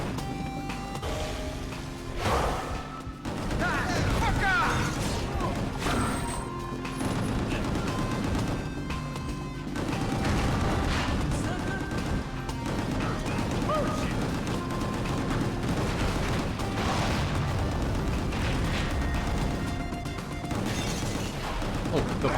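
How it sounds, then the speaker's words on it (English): Explosions and heavy gunfire pound on in the action game Gungrave G.O.R.E, a dense, continuous roar of blasts and crashes that stays loud throughout, with game music mixed underneath. "Things are just exploding."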